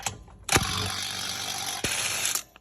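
A Milwaukee power ratchet with a 19 mm socket spins out the front caliper bolts on a 2011 Lexus LS460, giving two loud whirring bursts of motor and gear noise, close up, with no talking.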